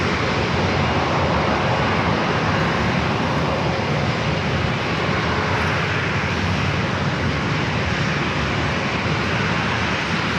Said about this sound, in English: arrival is Alaska SkyWest Flight 3499 coming in from San Jose, California. It's another E-Jet.